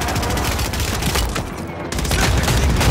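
Dense, loud automatic gunfire from Call of Duty MW3 rattles continuously in close bursts, with a short lull before the shooting resumes.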